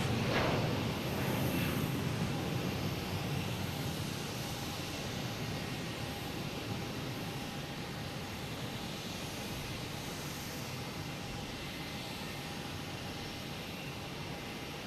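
An American Airlines Embraer E175 jet at Boston Logan Airport produces a steady, distant engine roar. The sound swells slightly at the start, then holds as a broad, even rumble with a faint whine, and no voices are heard.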